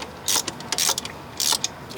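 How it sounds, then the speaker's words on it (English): Nuts tightened on the chain adjuster of a Polaris Scrambler 500 ATV, a few short metallic ratcheting clicks in quick bursts, close and clear. "Now we're going to tighten these nuts back up."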